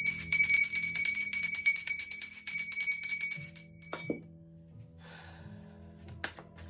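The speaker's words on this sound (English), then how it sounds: "as soon as I ring the bell" A small handheld bell rings brightly with rapid, shimmering tinkles for about four seconds, then stops abruptly, leaving a low hum and a few faint knocks and clicks.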